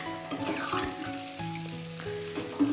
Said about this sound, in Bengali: তো চলুন এগুলো ভালো করে মশলার সাথে মিশিয়ে নিই।